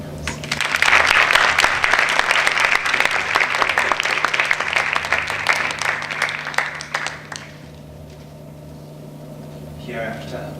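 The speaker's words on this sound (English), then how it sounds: "Let's give the speakers as well as the judges a wonderful round of applause." An audience applauds the speakers and judges at a student event, with loud dense clapping for about seven seconds before it stops and a voice begins to speak.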